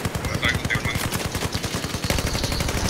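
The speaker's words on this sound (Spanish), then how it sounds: "¿Quién está disparando?" Rapid automatic gunfire in Battlefield 4, a steady fast rattle of shots throughout the short burst, with a voice heard briefly under it.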